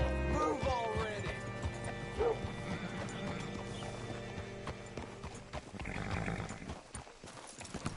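Horse hooves clip-clop in the Red Dead Redemption 2 video game, with a short whinny near the start, followed by steady hoof steps and faint mechanical clatter.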